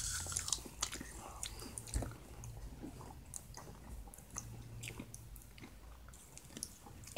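Apple slices covered in syrup are eaten up close, with wet chewing and soft crunching bites that continue steadily throughout.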